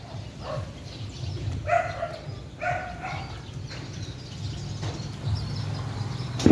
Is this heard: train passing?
no